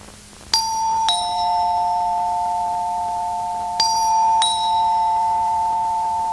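A two-tone doorbell chimes twice, a ding-dong followed by a lingering hum, then rings again a few seconds later, clear and close.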